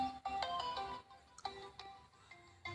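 A phone ringtone plays a quiet melodic electronic tune in short repeated notes with brief pauses, faint and close, with no voices.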